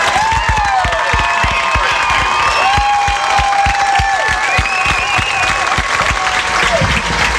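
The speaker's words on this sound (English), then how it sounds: "you hear the applause and a standing ovation by many for the veterans and active duty personnel who are here tonight" A stadium crowd at a high school football game applauds and cheers in a standing ovation for veterans and active duty personnel, a dense, loud, continuous roar of clapping and shouts with public address echoes and whistles running through it.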